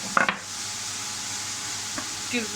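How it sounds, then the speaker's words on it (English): A pot of pasta sauce with oregano, bay leaf and red pepper gets a quick stir: a brief clink and scrape of the spoon at the start, then a soft, steady simmering hiss with one faint tap. "Give that a stir"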